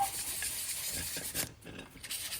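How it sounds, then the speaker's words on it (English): Steady abrasive rubbing as a curved part on an old truck is scuffed to dull its shine before gluing; close, dry rasping strokes with no talk. "I'm going to scuff up the surface just a little bit"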